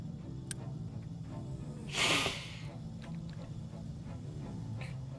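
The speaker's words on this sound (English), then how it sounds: "Apologize for the sniffles." A single short nasal sniffle from someone with allergies, close and brief, rising once over a quiet background hum.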